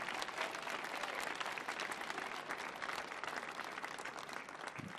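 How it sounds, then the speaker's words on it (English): An audience at a Millennium Stage youth hip-hop performance breaks into dense, continuous applause, loud and steady throughout with no talking over it. "Let's give another hand of applause to Brother Okai."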